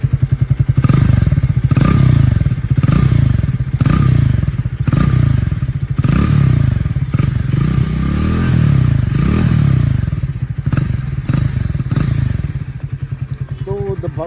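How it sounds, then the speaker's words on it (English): Exhaust note of a Triumph Speed T4 400 motorcycle, a loud close idle with a steady thumping pulse and regular rhythmic surges, alone with no talk. "I'll just make you listen to the exhaust note"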